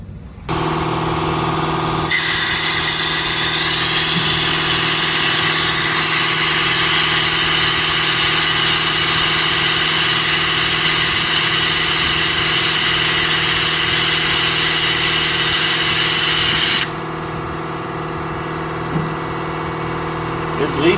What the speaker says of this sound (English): Sorry, my compressor is loud.